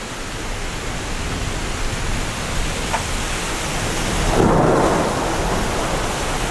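Thunder rumbles from an incoming electric storm, a low swelling roll building near the end over steady rain hissing on surfaces, with a brief crackle midway; no one speaks.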